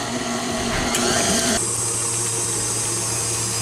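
Electric hand mixer whirring steadily as it beats an egg and vanilla into powdered-sugar cookie dough, a close, continuous motor drone that shifts pitch partway through, with no talking.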